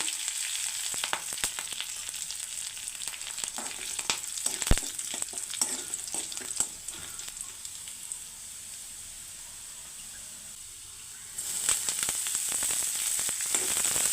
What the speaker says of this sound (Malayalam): കറിവേപ്പ് ഇട്ട് കൊടുക്കുക.